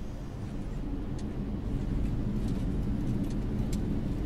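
An airliner rolling down the runway just after touchdown with spoilers up and reverse thrust engaged, a loud, continuous broadband engine roar that swells slightly, with no voices.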